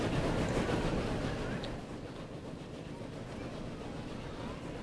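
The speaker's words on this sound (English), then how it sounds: "Oh, I don't like rogue trains." A train runs in the railway management game Transport Fever, set in 1902, giving a steady rumbling roll that is loudest at the start and eases slightly, with no talking.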